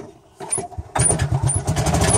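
A golf cart motor starts up and then runs at close range, first with a short uneven burst and then a steady, loud mechanical drone with some rattling.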